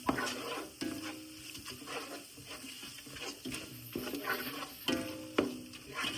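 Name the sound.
stirring and mixing king fish biryani masala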